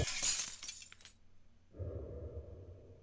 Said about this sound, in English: The stained glass window is shattered.